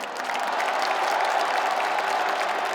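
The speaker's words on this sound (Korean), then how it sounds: "여러분 뜨거운 박수 보내주십시오" Large audience at a Democratic Party presidential nomination convention bursts into loud, sustained applause, a dense wash of many clapping hands filling the hall.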